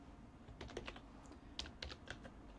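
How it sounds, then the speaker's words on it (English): Quiet, irregular clicking of keys on a computer keyboard as a password is typed during an Arch Linux GNOME install, soft and close with a faint background hum. "Type in your password."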